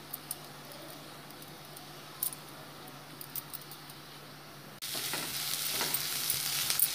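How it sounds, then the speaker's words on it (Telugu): Onions frying in hot oil for chicken samosa filling, a faint, steady low sizzle with occasional small ticks that swells into a louder, brighter frying hiss partway through, no talk. "ఈ ఆనియన్ లైట్ బ్రౌన్ అయ్యే వరకు"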